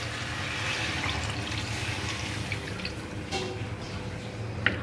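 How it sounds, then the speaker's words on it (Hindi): Four cups of water pour into a pot of arvi gosht, the taro and meat already fried, making a soft continuous splashing and trickling sound that stays faint and close. "अब मैं इसमें डाल दूँगी पानी 4 कप।"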